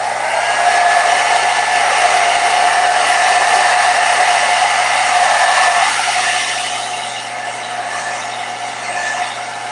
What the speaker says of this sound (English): you can use a blow dryer. Dry it quickly